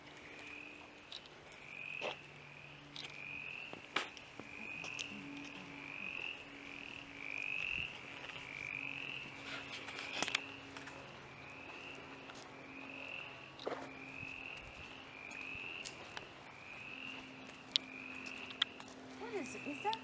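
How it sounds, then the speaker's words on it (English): Peeper frogs call in a steady series of short, high chirps repeating every second or so at Mepkin Abbey near Charleston, South Carolina in February, with faint speech and scattered background noise beneath. "Is that frogs making that sound?"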